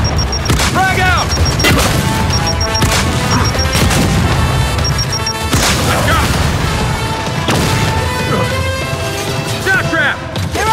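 Frag grenade blasts in Gears 5 arrive as a string of sharp, heavy booms and crashes at irregular intervals, mixed with gunfire and shouting voices.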